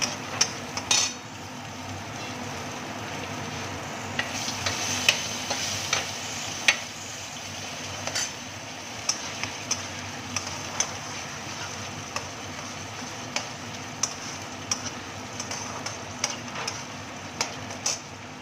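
A spoon stirring chilli egg fish as it fries in a pan, a steady low sizzle under scattered light scrapes and taps of utensil on metal, with no talking.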